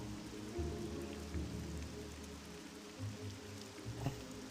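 Steady rain falls in the video game Morrowind, a soft, even patter at low level that continues without pause from start to finish, with no voices over it.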